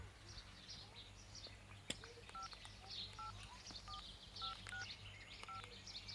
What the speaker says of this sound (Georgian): ნომერი აკრიფე.